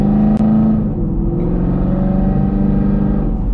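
A Chevrolet Camaro SS with a 6.2 V8, Borla Atak exhaust and MSD parts drones steadily while driving, a deep throbbing exhaust note with a slight shift in pitch partway through, loud and close with no talk.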